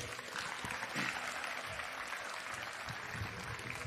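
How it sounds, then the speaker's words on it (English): At an alumni awards and scholarships presentation, a crowd applauds the award winners with a continuous, even roar of clapping from many hands, fairly close. "So let's take a moment to applaud them on this event."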